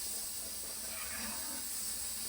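A pressure cooker full of rice, half a kilo with water, lets out a steady, soft continuous hiss of escaping steam, even and unbroken throughout.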